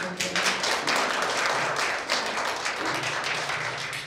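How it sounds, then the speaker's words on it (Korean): Audience applause at a Gemcellna convention fashion show, a dense, even burst of many hands clapping that fills the whole stretch at moderate loudness without talk. "박수 한번 하세요."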